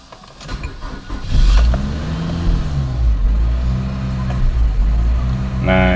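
A Nissan X-Trail engine cranks and catches, then revs up and holds a loud, steady idle that rises and falls slightly, with no voices.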